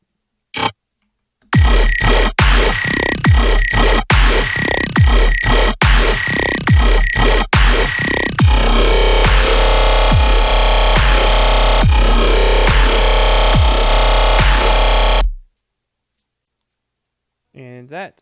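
A heavy synth growl bass patch tuned to E, loud and dense, with rhythmic choppy bursts for several seconds before settling into a sustained roaring drone that stops abruptly.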